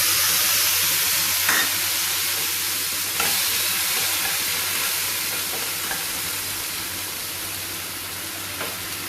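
Ginger and chilli paste fries in hot oil, giving a steady, close broadband sizzle with a few faint stirring clicks, and no one speaks.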